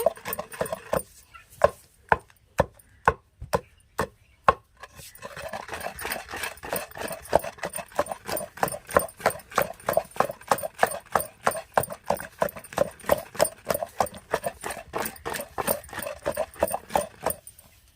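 Brinjal chutney paste with salt being ground by hand in a kitchen: a few sharp, widely spaced knocks, then a fast, steady run of rhythmic thuds and scrapes, close and fairly loud.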